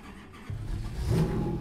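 A car engine in the Assetto Corsa racing game cranks and catches, a low starter churn rising into a steady idle rumble, close and alone with no talk.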